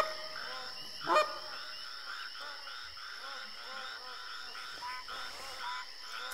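A flock of geese honks at a distance outdoors, a continuous overlapping chatter of calls with one louder, nearer honk early on, under a constant high insect-like drone.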